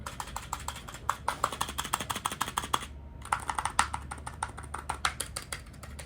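Fingers type quickly on a quiet, compact 60% keyboard, producing soft, close, rapid clicks in an irregular stream with one brief pause partway through.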